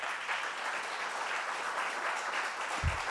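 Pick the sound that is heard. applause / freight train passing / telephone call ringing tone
applause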